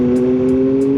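Motorcycle engine revving hard during wheelies, a brief loud, steady tonal drone with faint periodic hiss bursts.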